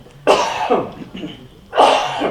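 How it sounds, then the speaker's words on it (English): Two loud, harsh coughs close to the microphone, about a second and a half apart, with a little murmur between them. "Excuse me, I'm just going to have to cough."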